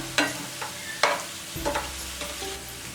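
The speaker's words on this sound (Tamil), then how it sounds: "இப்போ ரெண்டு பக்கமும் நம்ம கருணக்கிழங்கு ஃப்ரை ஆயிடுச்சு" Slices of elephant yam coated in rice flour fry in oil, a soft continuous sizzle broken by a few sharp scrapes and clinks of a utensil turning them in the pan.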